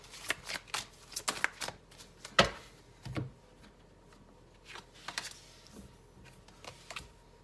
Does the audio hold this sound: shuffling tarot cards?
yes